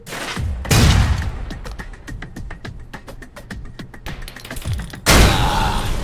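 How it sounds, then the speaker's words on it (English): Grenade blowing up a truck's gas tank in the video game Alpha Protocol, a loud burst followed by rapid crackling pops and a second heavy blast near the end. "Try and chuck one beneath the truck and take out the gas tank."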